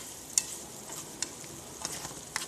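Sardines frying in a nonstick pan on a stove at medium-high heat, a faint steady sizzle with a few sharp pops and crackles scattered across the clip.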